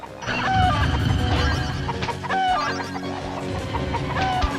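Chicken-like clucking sound effect from the video game Nickelodeon Party Blast, repeated in short clucks over a busy, loud game soundtrack with no talking.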